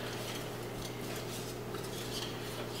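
A whisk beats waffle batter in a bowl with a steady, continuous scraping and clinking of the metal against the bowl. The sound stays close and even throughout, with no voices.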